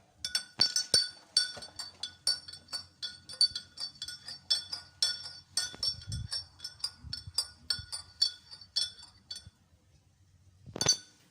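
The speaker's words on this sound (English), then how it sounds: "To wrap it off, you will stir." A spoon stirs colored water in a glass, giving a long run of bright, irregular clinks and taps close by, with a couple of soft thumps and one last sharp clink at the end.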